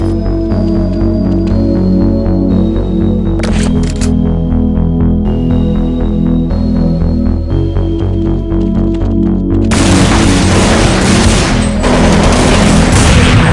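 A planted bomb goes off in the game Counter-Strike 1.6, a loud broad blast near the end after steady in-game engine hum and a few sharp clicks and shots.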